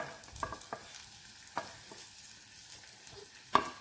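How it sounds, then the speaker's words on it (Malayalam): Thinly sliced onion and green chillies fry in coconut oil with a soft, quiet sizzle, punctuated by several sharp scrapes and taps of a stirring spoon against the pan. "ഒരു സവാള നീളത്തിലരിഞ്ഞ് കനം കുറച്ച് നീളത്തിലരിഞ്ഞ് നമുക്ക് എണ്ണയിലേക്ക് ഇട്ട് കൊടുക്കാം."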